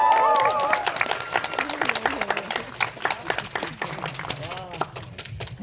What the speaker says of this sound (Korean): 네, 큰 박수로 환영 부탁드릴게요.